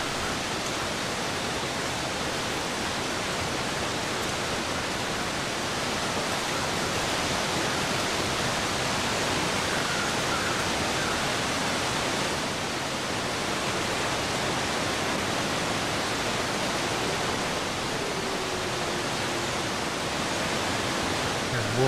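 Steady rushing water of the Hush River in The Long Dark, a dense unbroken broadband roar like a nearby rapid or waterfall, continuous and loud throughout.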